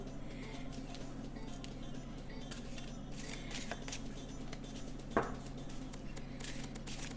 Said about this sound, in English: keep shuffling my tarot decks because